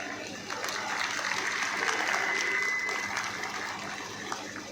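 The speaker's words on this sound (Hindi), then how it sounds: "तालियां कमजोर हैं।" Thin, scattered applause from a small audience at a Hindu gathering in Aligarh, steady patter of clapping lasting a few seconds with some background noise.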